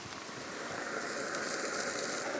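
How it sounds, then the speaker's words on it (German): Steady, dense hiss of rain falling around, a continuous soft patter that swells slightly louder toward the end, with no voices. "Beginnt es auch gerade zu regnen."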